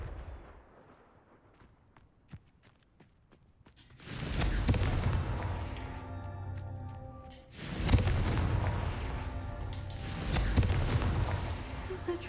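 Confringo fire-spell blasts in the Hogwarts Legacy video game: after a quiet stretch with faint clicks, loud booming explosions burst in around four seconds and again near eight and ten seconds, each with a rumbling roar that lingers before fading.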